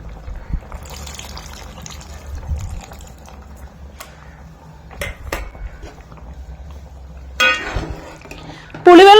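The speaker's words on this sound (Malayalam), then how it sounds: "ആ പുളിയുടെ വെള്ളം നമുക്ക് ഇതിലേക്ക് ഒഴിച്ചു കൊടുക്കാം" Tamarind water pours into a metal pot near the end, with light clinks of utensils and kitchen clatter earlier; no talking.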